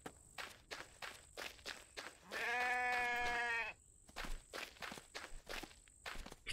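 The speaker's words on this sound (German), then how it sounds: "Ich lasse das Schaf mal in Ruhe." A sheep bleats once, long and wavering, in the survival game The Infected, between rhythmic crunchy footsteps walking before and after it, fairly quiet overall.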